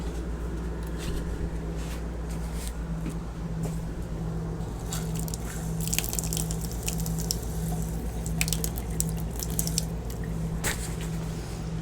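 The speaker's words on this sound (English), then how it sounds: "Let's turn the water pump on." A steady low mechanical hum from a 2016 Dynasty 45P RV's water pump runs throughout, with faint water trickling and dripping sounds layered on top.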